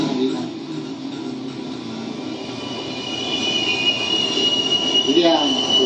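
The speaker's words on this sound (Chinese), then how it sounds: "一辆火车刚好停了下来" A train pulls into a station and slows to a halt, its wheels giving a thin, rising squeal over a steady low rumble that grows louder toward the end.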